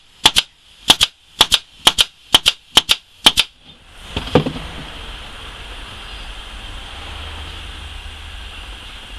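Seven sharp, evenly spaced staple-gun shots fired while building a screen-bottom queen mating nuc beehive box, loud and close, followed by a softer thud and then quiet background hiss.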